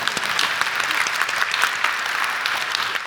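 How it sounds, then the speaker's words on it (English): A conference audience at a closing panel claps in a steady, even round of applause throughout, with no break. "Please clap."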